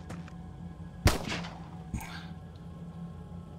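Gunfire in the turn-based strategy game Xenonauts 2: a sharp, loud shot rings out, then a second, fainter report about a second later, both over a low background hum.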